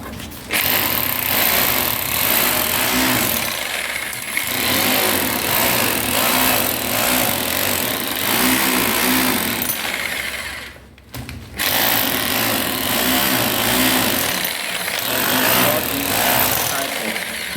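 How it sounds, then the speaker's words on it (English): A rotary hammer drill in hammer mode chisels into a wall at a building site in Ghana, a loud continuous rattling hammer roar that cuts out for a moment and then resumes. "But now I'm using it to chisel the wall, so I'm switching it"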